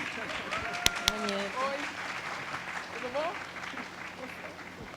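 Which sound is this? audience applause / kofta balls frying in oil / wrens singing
audience applause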